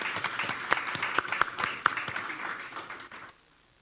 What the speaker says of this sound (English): Could we give all of our students a round of applause?